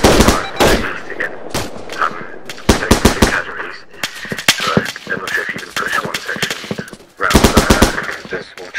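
Soldiers' automatic gunfire crackles in loud, close bursts of rapid shots separated by brief pauses, with voices talking between and under the volleys.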